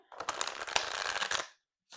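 A deck of square cardstock oracle cards is shuffled by hand, a dense close riffling burst lasting over a second, then a brief pause and a short second flutter.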